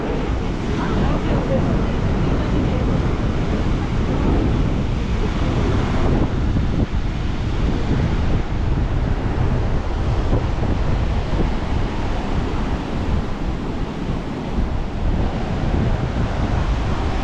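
Ocean waves wash over rocks at what is nearly the southernmost point of Australia. The surf is a loud, steady roar throughout, mixed with heavy wind buffeting the microphone.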